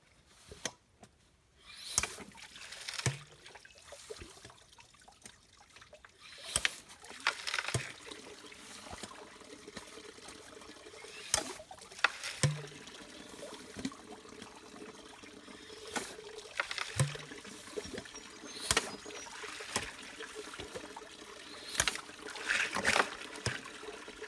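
Crevice material being panned for gold in water, with faint, intermittent trickling, sloshing and dribbling as the pan is worked, close by and quiet, with no voices.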